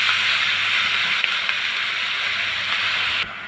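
Washed cabbage dropped onto onions frying in a pan, producing a loud steady sizzle with a couple of small clatters, easing off slightly at the end.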